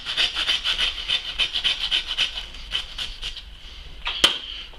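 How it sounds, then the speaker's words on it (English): A saw cuts through a pig's backbone while chining, making steady rhythmic rasping strokes close up that slow and change toward the end, finishing with a sharp click. "So I'm going to chine it. So we're just going through the bone, gentle."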